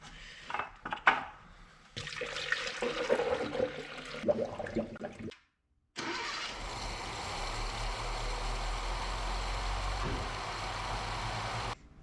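Water and rusty coolant draining from the cooling system of a 1977 Datsun B210, first splashing and trickling unevenly, then after a brief silence a steady, continuous gushing pour close by.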